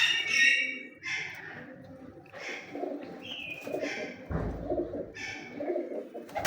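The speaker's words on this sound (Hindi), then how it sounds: "ये पुराने कबूतर हैं" Old breeder pigeons cooing close by, a series of soft repeated coos and short chirps spread across the moment, with light rustling in between.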